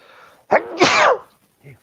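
A single sharp sneeze bursts out, loud and close, followed by a short quiet murmur.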